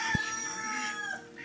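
A fighting rooster gives a single short cluck near the start, then a quiet farmyard background with faint distant bird calls.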